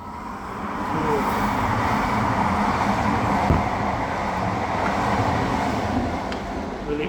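A train passes nearby with a sustained, swelling rumble that rises after the first second and holds steady, under faint background sounds and no talk.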